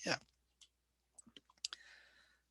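Sharp mouse clicks on a computer while debugging code in Visual Studio for an ASP.NET Core project, a few quick, close clicks scattered among short bursts of faint talk.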